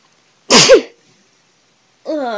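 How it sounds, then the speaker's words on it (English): A single sharp, close sneeze from an adult man with a stuffy cold, loud and abrupt, followed by silence and then the start of speech. "now is really not a good time for me to have to sneeze"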